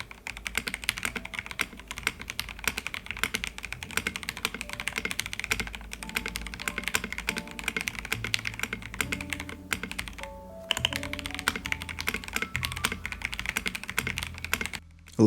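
Rapid, continuous typing on a BlackIO 83 mechanical keyboard, close and clear, with dense clacky keystrokes, one brief pause near the end, and no talking.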